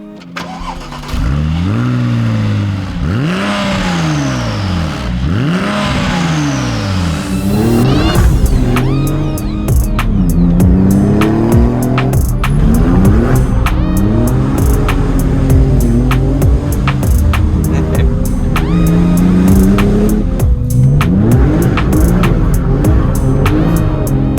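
A Porsche 996 GT2 engine cranks and starts, then revs repeatedly with rising and falling whines, loud and close, settling into a rough idle between blips.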